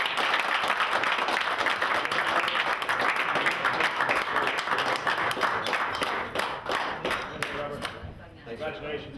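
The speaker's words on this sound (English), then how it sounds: "I'd just like to introduce the third place with a round of applause, Robert Hisler." Enthusiastic applause from a crowd at a charity tournament prize-giving, dense clapping that holds steady and then thins out into scattered claps near the end.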